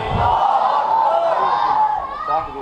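A large crowd at a religious gathering shouts back in unison after a Nara-e-Takbeer call, a loud, sustained roar of voices for about two seconds that tapers off at the end.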